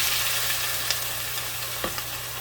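Caramelized onion and garlic sizzle steadily in a frying pan as water goes in, a dense, even frying hiss with a few small pops and crackles, fairly loud and with no speech.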